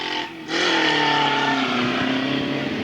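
Race cars at Airborne Speedway in Plattsburgh, New York, in 1994 roar past after a brief dip, engines holding a loud, steady whine as the pack moves through, close and without speech.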